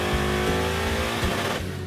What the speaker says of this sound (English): That was wide open throttle and it didn't shift till I lifted